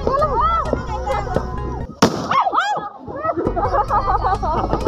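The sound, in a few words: flash bang pyrotechnic explosion at resort event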